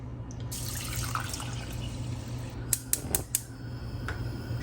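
Water poured into a pot for cooking jasmine rice, a steady broadband splashing stream running throughout at close range, with a few sharp clinks near the end and a low hum beneath.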